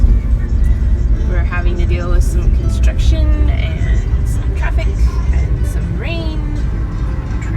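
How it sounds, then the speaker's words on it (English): A car driving through traffic and road construction in the rain, with a steady low road rumble and hiss throughout, while people talk inside. "We're having to deal with some construction and some traffic and some rain"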